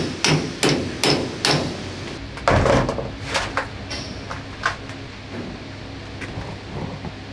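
Metal hammer blows on a gear inside a Panhard EBR 90 armoured car turret in a workshop, about a dozen sharp, close strikes at an uneven pace, with quieter taps and knocks between them and no talking.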